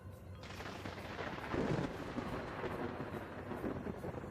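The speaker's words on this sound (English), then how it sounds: "we're just waiting on this storm to pass" A video-game thunderstorm rumbles at a distance, with steady rain-like hiss and a swelling thunder roll partway through, fairly faint and with no talking.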